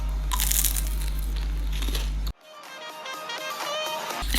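Someone bites into a crunchy homemade churro, giving a loud crisp crunch followed by softer chewing crackles close to the mic.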